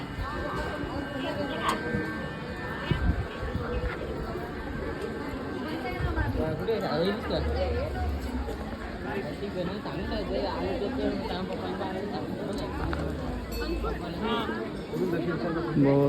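A steady hubbub of many voices from a crowd gathered at a temple in Malvan, where construction work is under way. The chatter continues as a constant background murmur, with a nearby voice speaking over it.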